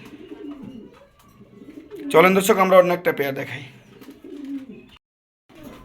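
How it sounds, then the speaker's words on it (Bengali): Pigeons kept in a loft for sale, foreign breeds, give soft low coos, with a louder burst of bird noise in the middle, while someone talks over them nearby. "অনেক সুন্দর এই কবুতরগুলো"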